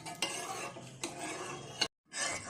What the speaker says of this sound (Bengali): যেভাবে নেড়ে একটু ঠান্ডা করে নিতে হবে